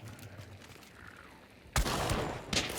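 Centennial rifle firing DumDum ammo in Hunt: Showdown, with a sharp, loud shot cracking after a quiet lull, followed by a second report about a second later.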